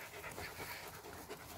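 A Nordic Timber wolfdog pants quietly and steadily at close range, a soft, continuous breathy rhythm with no voices.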